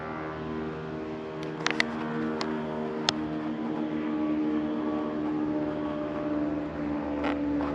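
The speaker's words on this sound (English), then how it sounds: "There's a whole bunch of planes flying around." Airplanes flying overhead during a solar eclipse near a sawmill, a steady distant drone of aircraft engines with a few sharp clicks and taps nearby.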